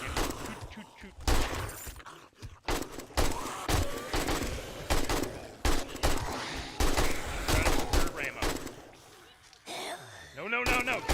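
Gunfire in 7 Days to Die during a blood moon horde fought from inside a cage: loud bursts of rapid shots come in repeated volleys separated by short pauses, mixed with thuds, with a voice speaking over them.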